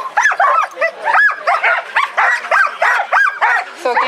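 A team of sled dogs barking and yipping excitedly at the start of a race leaving Whitehorse, a dense, rapid run of loud, close barks one after another, with no pause.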